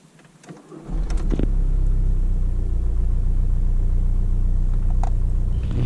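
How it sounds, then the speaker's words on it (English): A Volkswagen Golf engine cranks briefly and catches, then settles into a steady, close, rumbling idle that continues to the end. "I'll just start the engine."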